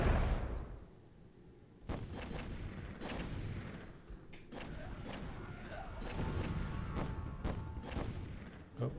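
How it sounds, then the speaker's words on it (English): Explosions in the video game Myth II Soulblighter, several muffled booms and thuds spread through the stretch with a busy battle din around them. "Oh, there are some explosions."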